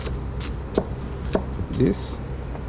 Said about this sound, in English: if you want chop, very easy, like this.